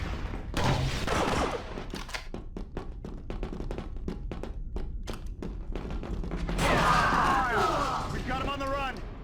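Star Wars Battlefront 2 (2005) gunfire: a steady volley of sharp, rapid shots rings out in a regular rhythm for several seconds. Voices call out over the shooting before and after it.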